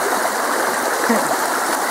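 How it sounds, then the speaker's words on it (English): Spring water flowing in a small stream, a steady close rushing babble that runs on alone without pause. "it should be spring water"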